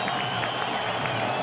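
A Fresno State football stadium crowd during a 2006 game against Nevada, a steady, dense roar of cheering and applause that holds at full strength throughout.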